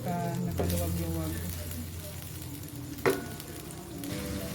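Corned beef fries in a pan with a continuous close sizzle and a hissing crackle throughout, with a brief clatter near the end and a person talking over it.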